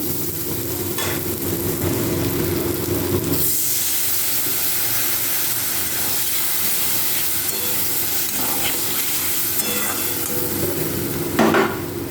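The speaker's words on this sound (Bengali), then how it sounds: "সমস্তটা পটলের সাথে আমি ভেজে নেব" Pointed gourd frying in a pan with salt, turmeric, cumin, ginger, onion and chilli paste, a steady close sizzle and hiss with occasional stirring scrapes, no talking.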